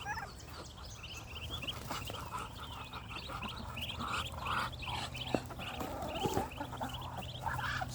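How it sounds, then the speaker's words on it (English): Hungry, unfed ducklings on a small homestead call for food in a busy, overlapping chorus of repeated peeping cries, close by and continuous. "They have not been fed this morning, so they're a little ornery and demanding their food."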